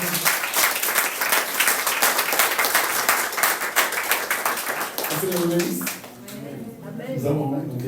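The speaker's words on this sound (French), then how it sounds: "Applaudissons au Seigneur." A church congregation claps along in rhythm at the close of a prayer, loud steady beats for about five seconds that break up as the clapping fades and voices take over.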